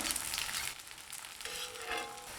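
Soft sizzling of rice flour roti (akki roti) cooking on a hot tawa, a quiet steady hiss with faint crackles, heard alone.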